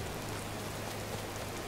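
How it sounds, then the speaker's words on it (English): Rain in the video game Disney Dreamlight Valley, a steady, soft hiss of falling drops that holds evenly throughout with no other sounds. "It's raining!"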